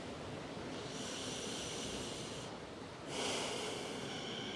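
Slow, deep breaths drawn in and let out during a beginner yoga flow, a long airy inhale that swells and then a louder exhale, close and steady with no talking.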